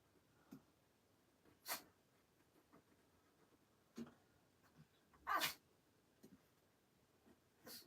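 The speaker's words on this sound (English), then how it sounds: "If you can hear her sneezing, that's Freckle." Freckle, a pet dog in the room, gives a few faint, scattered sneezes and snuffles, one slightly louder burst among quiet ticking and small movement noises in a hushed indoor space.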